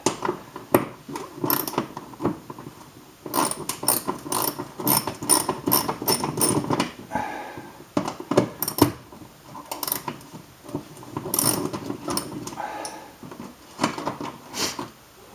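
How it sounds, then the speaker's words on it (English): An 8mm ratchet backs out the headlamp cover screws on a BMW E90, producing close bursts of rapid metallic clicking separated by short pauses, repeated over and over with no talking. "I want to use 8mm ratchet to pull this cover off"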